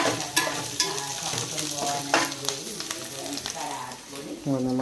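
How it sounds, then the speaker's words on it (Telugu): Onions sizzle steadily in a hot pan while a spoon scrapes and taps against the metal in irregular strokes, and a voice speaks briefly near the end. "ఉల్లిగడ్డ వేయించినాం. ఉల్లిగడ్డ వేస్తున్నాం."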